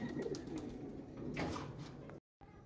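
A pigeon coos in short soft repeated phrases, close and alone with no talk, before cutting off abruptly near the end.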